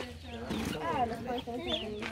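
Soft clucking and cheeping of young chicks close by, mixed with a person talking over them.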